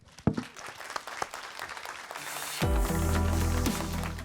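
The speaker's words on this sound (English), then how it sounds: "You deserve a round of applause." Audience applause at a data collaboration conference in Paris, starting off as scattered claps before swelling into fuller clapping that runs on at moderate volume, with a tonal musical sting joining in under it.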